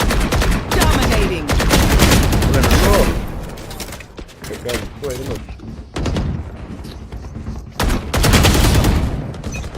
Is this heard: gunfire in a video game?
yes